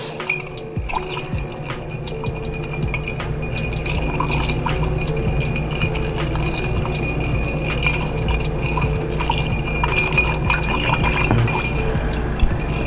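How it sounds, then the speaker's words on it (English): A bar spoon circles through ice in a glass while mixing a chocolate old fashioned, giving steady clinking and rattling close up, with liquid swirling, continuous for the whole stretch with no talking. "a little bar spoon, going in a circular fashion with some ice"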